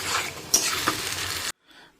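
Chicken gizzards fry with ginger and garlic in a pan, a close, steady sizzle with a couple of stirring scrapes before it cuts off, followed by a faint brief rustle.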